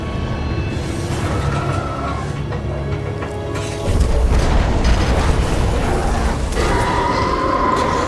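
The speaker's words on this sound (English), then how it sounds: "a series of explosions just weakened the manipulator arm" A run of heavy explosions in Titanfall 2 rumbles loud and deep, with booming bursts layered over constant low roar that swells sharply midway and stays dense to the end.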